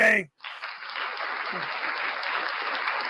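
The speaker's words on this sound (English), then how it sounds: "Round of applause for Ray." A brief voice cuts off, then sustained audience applause rises and holds for a live breakfast show, a broad, steady roar of many clapping hands with a faint voice briefly underneath.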